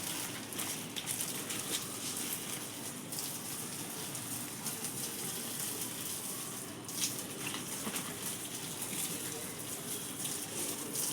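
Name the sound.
watering garden plants with water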